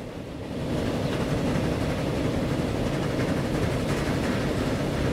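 A train in the video game Transport Fever rumbles steadily with a low, continuous rolling drone that starts softly and quickly settles into an even, loud run, heard alone without talk.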